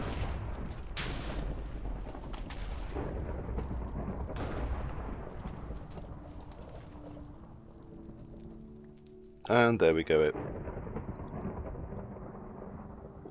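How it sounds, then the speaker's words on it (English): Thunder rumbles during a ritual in the Minecraft Regrowth modpack: rolling low booms and sharp cracks fill the first half, fading to a hum before a loud metallic burst near the end; someone speaks briefly. "obviously it's already thundering"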